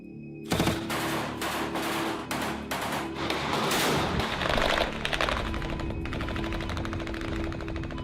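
Bursts of gunfire in combat between pro-Russian forces and Ukrainian government troops in the Donbass, rapid automatic shots in loud clustered volleys, rattling on and then thinning into scattered fire.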